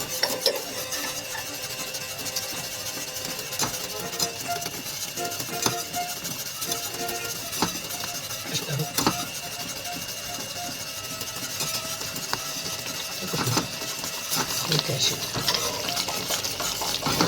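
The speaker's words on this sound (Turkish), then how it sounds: "Her defasında böyle biraz çırpmak lazım. Eğer çırpmazsanız pütürlenir." Flour being whisked into melted butter and water in a pan for Turkish kuymak, a steady close scraping and rasping of the whisk with scattered clinks against the metal over a faint background hiss.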